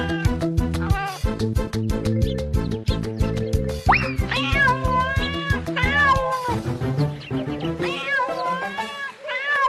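A house cat meows several times in drawn-out, pitch-bending cries over rhythmic background music, loud and close, with the calls bunching together toward the end.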